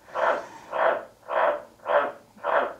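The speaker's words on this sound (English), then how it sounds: "Do you hear that? That's my resident frog." A frog living inside an air conditioner croaks five times in a steady, evenly spaced rhythm, each call a loud, hollow, slightly muffled rasp, close by and alone.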